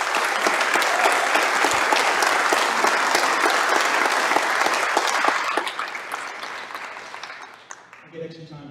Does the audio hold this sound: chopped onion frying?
no